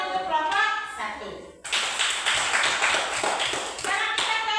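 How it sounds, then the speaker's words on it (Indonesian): Pupils in an elementary school classroom clap for a presenting group. A voice comes first, then a burst of close, brisk clapping begins and stays busy until the end. "Mari sekali lagi beri tepuk tangan untuk kelompok 1"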